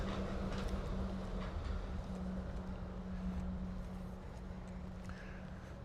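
A Walt Disney World monorail train rumbles past with a steady, loud mechanical hum and a sustained low tone, heard from nearby among a bustling park.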